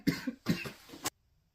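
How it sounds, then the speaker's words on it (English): Three quick coughs in a row, close and fairly loud, followed by silence. "I can't seem to do it without coughing."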